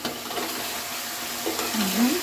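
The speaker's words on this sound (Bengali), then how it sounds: "এবার আমি এটা নাড়িয়ে দিচ্ছি" A meat and potato curry is stirred in a pan, giving a soft, continuous sizzle with gentle scraping and a few faint tonal sweeps over the hiss.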